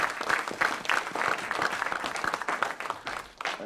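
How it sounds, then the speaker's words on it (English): Conference audience applauding, a brisk, dense burst of clapping from a seated crowd that stays steady throughout without voices on top. "So I just want to give a round of applause to you all sitting here"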